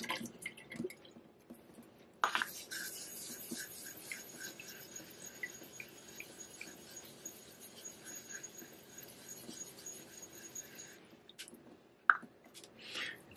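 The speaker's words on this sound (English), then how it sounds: "We'll make a slurry" A Japanese natural finishing water stone rubbed back and forth across an Atoma diamond plate to raise a slurry, giving a steady wet scraping and squishing texture at close range for several seconds, with no talking.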